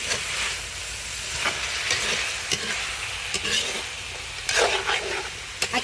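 Vegetables for chopsuey stirred in a hot pan, with a steady sizzle underneath and repeated scraping clacks of the utensil against the pan, close and fairly loud.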